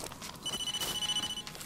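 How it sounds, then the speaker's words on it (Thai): A phone rings in the Blair Witch video game, a steady high electronic tone that starts partway through and holds for about a second over a dark, noisy forest ambience. "โทรศัพท์เข้ามาครับ"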